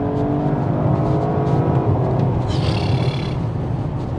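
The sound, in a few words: sports car with sport exhaust accelerating and changing gear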